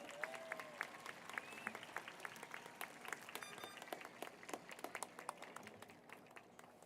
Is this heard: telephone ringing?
no